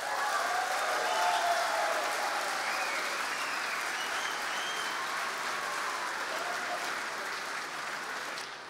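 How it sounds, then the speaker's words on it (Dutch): An audience applauds after a talk at the Paradiso venue, sustained dense clapping for several seconds that holds steady and then eases slightly toward the end. "Dus mag ik nog één keer een applaus voor Shalila?"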